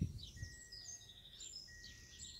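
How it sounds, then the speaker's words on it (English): Faint, scattered bird chirps and cheeps over a soft, steady outdoor background, with no one talking. "Sparrows are cheeping."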